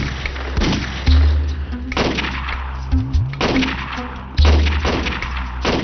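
Gunfire from a Pashto TV drama: about four heavy, booming shots spaced roughly a second apart, each a sharp loud burst over a sustained low musical drone.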